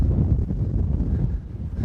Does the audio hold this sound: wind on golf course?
yes